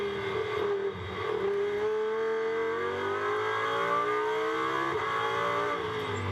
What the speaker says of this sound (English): De Giusto up towards turn 13, down through the gears.